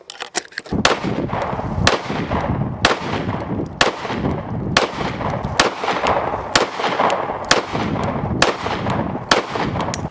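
Gunshots ring out at an outdoor shooting range, a loud, regular string of sharp reports about one second apart, each with a booming decay, some fainter shots from other shooters mixed in.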